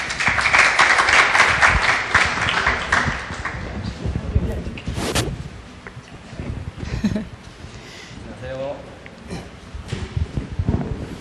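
An audience applauds loudly for a few seconds, the clapping fading as voices begin talking over a quieter room.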